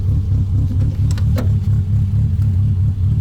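A car engine hums in a low, steady rumble from inside the cabin as the car sets off on a short drive, with a few faint clicks and rattles over it and no talk.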